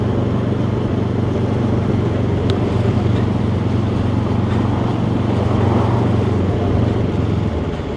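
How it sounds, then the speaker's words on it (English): A Benelli TRK 702 motorcycle cruises steadily in fourth gear at about 30, its low engine drone constant and close beneath heavy wind rush across the microphone, with no talk. "So still cruising along here at 30 in 4th gear."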